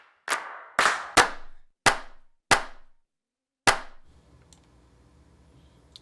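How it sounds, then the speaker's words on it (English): Big, punchy clap samples for a house track play one after another, six sharp hits with decaying tails, the last followed by a quieter textured tail. "I'm just running through like some really big claps"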